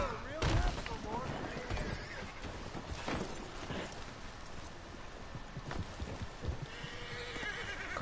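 A horse neighs and whinnies in Red Dead Redemption 2, with hoofbeats clip-clopping and a sharp gunshot-like burst near the start, all heard over faint background game sound.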